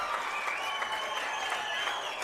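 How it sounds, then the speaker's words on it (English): Crowd at a high school 2A baseball championship game, South Sevier versus Kanab, giving a standing ovation after a run scores, with steady applause and cheering filling the whole stretch at moderate distance. "a standing ovation from the South Sevier crowd"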